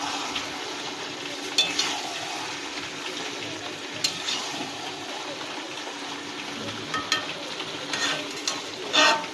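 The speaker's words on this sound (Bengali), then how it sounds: "ভালো করে কষিয়ে নিতে হবে" Meat being sautéed with spices in a pan, with a soft steady sizzle and occasional stirring scrapes at moderate distance, no talking.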